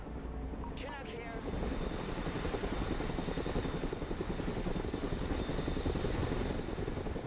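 Chinook helicopter in the Broken Arrow war video game, a steady rotor thrum and engine rumble growing louder after a brief quieter opening, with a short chirping sound early on and a voice talking over it.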